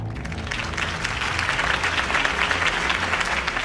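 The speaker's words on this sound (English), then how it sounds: "If only Mr. Wayne, my campaign's largest backer, could have heard that applause" Crowd applause at a political campaign rally in the Batman Telltale Series video game, a steady dense clapping with scattered cheers sustained at even loudness throughout.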